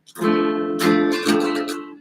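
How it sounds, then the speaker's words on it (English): Rhythm guitar chords strummed in a few bright, ringing strokes, each sustaining before the next strum, played close and alone with no voices. "Now the rhythm chords, it sounds something like this."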